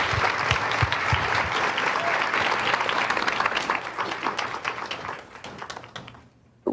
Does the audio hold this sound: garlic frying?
no